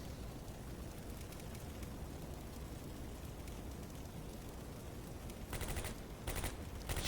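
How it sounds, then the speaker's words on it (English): Gunfire from a Combat Mission Beyond Overlord battle between French and German troops firing from houses: a faint, distant crackle of small-arms fire, with a few denser rattling bursts near the end and no talking. "we're just shooting at each other from houses"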